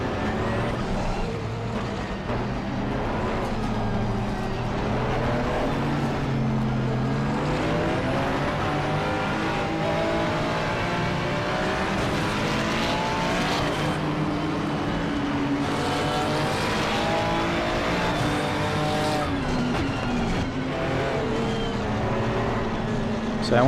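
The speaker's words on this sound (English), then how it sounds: "So I want to get overtaken by a few more GT4s" Multi-class GT4 race cars in a racing video game roar past in a steady, continuous engine drone with rising and falling pitch as several cars overtake, layered with a voice talking throughout.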